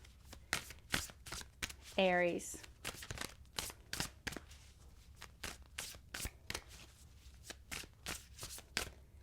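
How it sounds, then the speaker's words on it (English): Rapid, crisp tarot card shuffling in repeated bursts of riffling clicks, close by, with a brief spoken word partway through. "I'm going to shuffle the cards"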